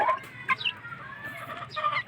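Chickens clucking while being fed, several hens giving short throaty clucks and squawks at an uneven rhythm, close by and moderately loud with no talking.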